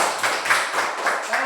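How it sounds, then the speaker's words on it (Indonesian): Hands clapping in a classroom lesson on light, a few irregular claps with a rhythmic, moderately close sound, and light chatter underneath. "Tepuk tangan untuk si sahabat dulu"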